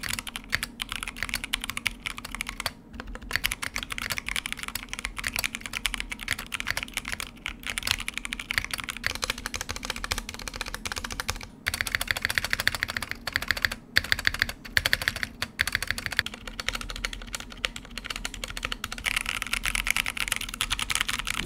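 Continuous typing on a stock, fully assembled Drop keyboard fitted with Halo Clear switches and stock keycaps, a dense, slightly scratchy clatter of keystrokes that runs steadily throughout with only brief pauses, close and alone.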